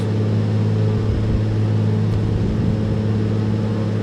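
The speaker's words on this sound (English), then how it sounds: "Let's turn the engine sound down a bit" Steady, loud drone of an aircraft engine inside the X-Plane 11 flight simulator while flying a valley route in Norway, holding a constant low hum with no change in pitch and no voices.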